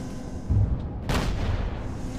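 Tank cannon firing in the military game Arma 3, a single deep boom with a short rumbling tail, loud and close over steady engine noise.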